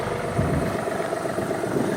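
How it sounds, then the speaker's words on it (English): A small compact farm tractor's engine idles steadily, a low, even rumble with no change in pace and no voices. "I initially bought this little compact tractor to mow my yard with"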